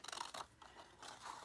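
Scissors cut through folded paper along a score mark during a sequin craft project, a few short, close, crisp snips in quick succession with no talking.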